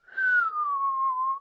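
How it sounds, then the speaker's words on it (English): A whistling wind sound effect in a read-aloud children's story: one steady, close whistle that slides gently downward in pitch and holds for over a second, heard alone. "With the wind whistling louder"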